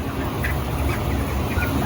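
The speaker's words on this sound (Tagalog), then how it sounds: "yung huni nila iba kapag ganito pa lang sobrang init na nararamdaman nila" Chickens stressed by hot weather, giving a few faint, scattered calls beneath a steady, loud wash of background noise.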